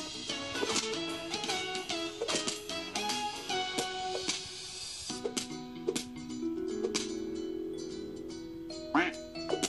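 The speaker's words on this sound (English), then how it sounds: "Quack." Repeated cartoonish duck quacks from the video game Duck Warfare ring out over busy game music and effects, coming in quick bursts throughout.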